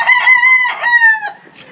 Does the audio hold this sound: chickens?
yes